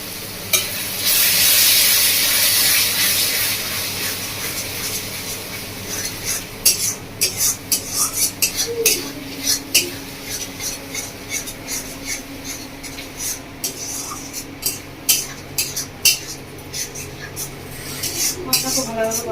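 Curry masala for a village-style chicken curry sizzles in oil in a pan, with a hiss that fades early into softer frying and scattered scraping clicks from stirring.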